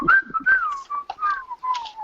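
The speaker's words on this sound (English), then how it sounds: "Andrew, do the whistle" A person whistles a clear, bright melody in short, sliding phrases with small pauses between them, close up and alone.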